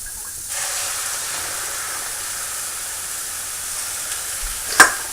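Rutabaga chips dropped into a hot skillet, with a steady, close sizzle that starts abruptly and holds, capped by a brief clatter near the end.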